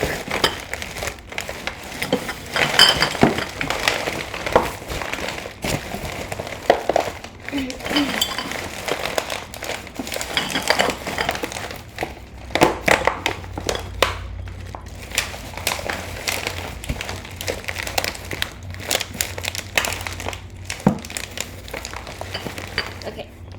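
Glass and assorted trash being smashed and stirred for a physical science trash lab, giving scattered clinks, crunches and rattles, irregular and close, with some talk alongside.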